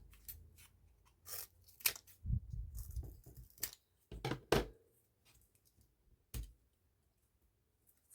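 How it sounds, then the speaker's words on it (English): Paper cut with scissors during card making: a series of short, crisp snips and crunches, some in quick clusters and others spaced apart, close and fairly quiet with no talking. "let's just cut a piece"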